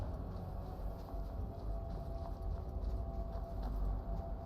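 Goats move about in the video game Skyrim, producing a quiet, steady patter of hoof-like clip-clop footsteps over a low ambient game backdrop, with no speech.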